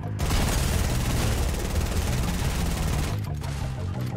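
Gunfire and loud explosive booms fill a dense, continuous barrage in the video game The Last of Us Part II, close and heavy for about three seconds before easing.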